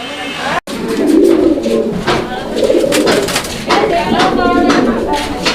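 Pigeons, including a costly breed kept by a seller, cooing loudly and close in repeated throaty phrases, with someone talking over the birds.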